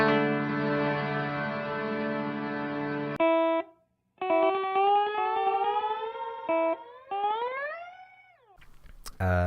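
An Afterneathing reverb guitar effects pedal rings out in dense, cavernous sustained tones that cut off, return, and then bend upward in gliding pitch sweeps, loud and up close with a brief gap near the middle.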